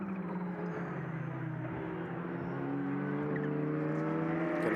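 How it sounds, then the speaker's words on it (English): A Ferrari turbo race car at Paul Ricard circuit during a GT endurance race hums steadily in the background and swells slightly toward the end, with no talk over it. "hear the Ferrari turbo in the background."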